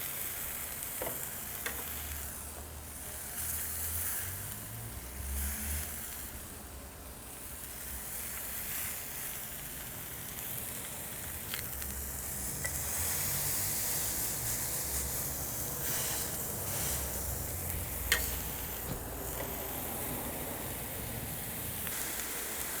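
A Cuban frita burger patty pressed flat on a hot griddle with onions and basting sauce, giving a steady, fairly quiet hissing sizzle that runs unbroken throughout, with a single faint tap near the end.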